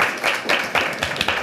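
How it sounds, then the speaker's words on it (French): A short burst of fairly loud applause from a studio audience on a French web TV talk show, with distinct claps blending into a continuous rattle. "On peut applaudir."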